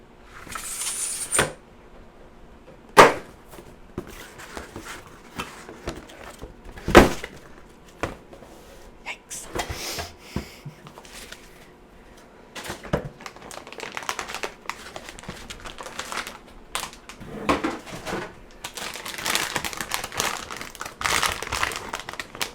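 A Gigabyte graphics card box being opened, with crinkling packaging, scattered thumps and sharp cardboard knocks spread over a fairly quiet stretch, no speech.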